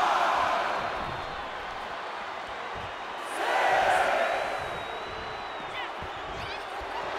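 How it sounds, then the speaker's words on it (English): A roaring arena crowd from the WWE 2K24 wrestling game keeps up a steady wash of cheers, swelling louder for a moment midway, with a commentator's voice running over it. "The sound of this crowd is deafening, and he's asking for more."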